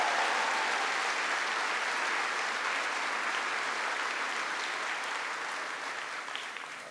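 A large audience gives steady, sustained applause at a Veterans Day gathering in South Korea, and the clapping fades slightly toward the end.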